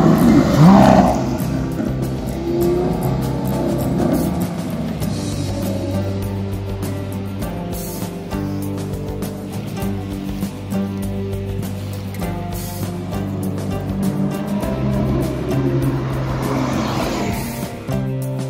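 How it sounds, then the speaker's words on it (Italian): Lamborghini Huracan Spider and Aventador SVJ V-engine supercars on a road, a loud roaring rev at the start settling into a sustained, throaty engine drone that swells again near the end. "ci siamo tolti lo sfizio di guidare su strada la Huracan Spider e la Aventador SVJ"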